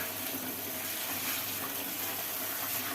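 Running water flows steadily as fresh rose and poppy petals are washed for jam, producing a continuous close splashing rush with no speech.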